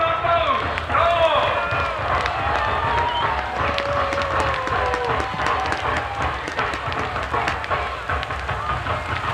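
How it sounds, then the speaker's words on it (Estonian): Crowd applause and cheering ring out at an outdoor winter fire sculpture lighting in Mustamäe, a dense steady wash of clapping with crackling fire beneath, a few whistle-like tones and voices mixed in. "Ma palun aplaus, bravo!"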